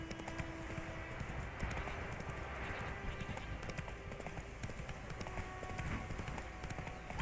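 Hooves of a horse named Roach in The Witcher 3 clip-clop in a steady galloping rhythm, fairly close and continuous, with game ambience and occasional tonal cues underneath and no speech.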